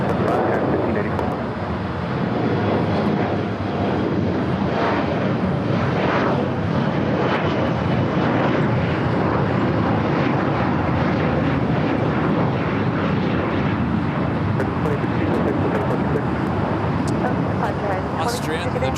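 Austrian Airlines Boeing 777-200ER arriving from Vienna, landing on runway 25 left at LAX, a steady broad jet roar held at constant loudness throughout, with a voice talking over it.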